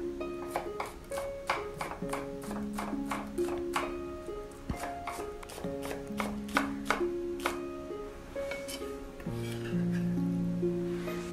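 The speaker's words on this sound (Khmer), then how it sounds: "ដំបូងយើងត្រូវហាន់គល់ខ្ទឹមទុកមួយឡែក" A knife finely chopping scallion stalks on a cutting board, quick steady taps in close succession under soft background music, with no talking.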